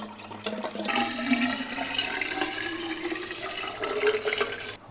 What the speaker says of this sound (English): I think I'm going to drain what I can out of this hose and then fill it up again.